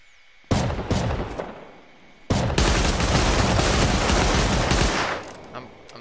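Bursts of automatic gunfire in Rust Console Edition rattle loudly and close, one short volley followed by a longer sustained burst of rapid shots that tapers off, with no talk over it.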